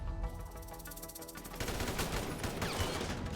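Rapid bursts of gunfire in the video game GTA, dense and continuous, growing louder and busier halfway through with cracking shots layered over a constant rumble.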